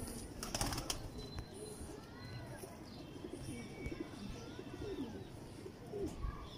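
Soft cooing of teddy pigeons among other bird chirps, with a low rustling background and occasional brief taps; fairly quiet and steady throughout.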